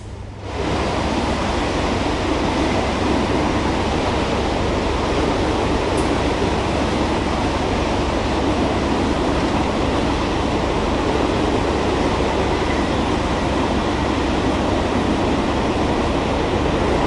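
A train in Train Sim World 6 on the Cardiff City network runs at full power pulling few carriages, giving a loud, continuous, unbroken roar and rumble that holds steady throughout.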